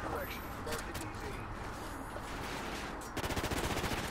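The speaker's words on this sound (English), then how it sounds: "now we're going to get the A-10 strafing run here in Collision." An A-10 strafing run in Call of Duty Ghosts multiplayer on the Collision map, a dense roar of rapid gunfire that ends in a burst of fast, evenly spaced pulsing shots, loud and continuous.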